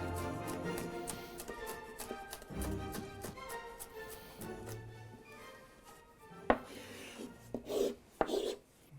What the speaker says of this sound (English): So let's now chop our spring onion or scallion, how you want to call it.